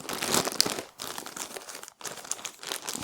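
Crinkly plastic packaging from a garden and mushroom-growing parcel crackles and rustles up close as it is cut open, in two busy bursts separated by brief pauses.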